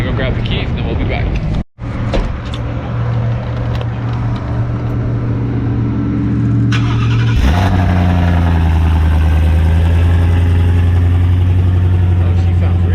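Supercharged Coyote engine in an F150 Lightning idles with a steady low exhaust rumble, then is revved once and settles into a louder, deeper idle, with people talking nearby.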